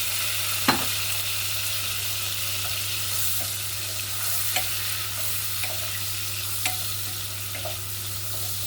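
Wine stirred into shallots in a hot frying pan gives a continuous sizzle with a low steady hum beneath, broken by a few sharp clicks of the spoon against the pan, with no talking.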